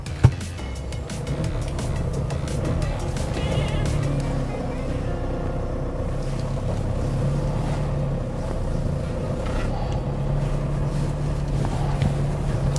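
A Volkswagen Amarok pickup on a UK test drive gives a steady, fairly loud low engine and road drone with wind noise inside the cabin, continuous throughout with no speech.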